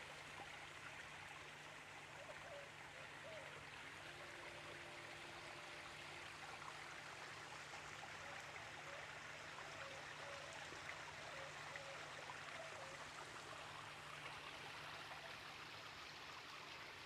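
Water in a garden pond trickles steadily and softly, a continuous faint outdoor wash with a low steady hum underneath and no talking.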